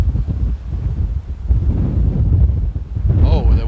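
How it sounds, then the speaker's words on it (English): Strong gusts buffet a microphone at Amsterdam Airport, a loud low rumbling roar that surges and fades across the few seconds, with a voice faintly audible near the end. "Oh, the wind is picking up."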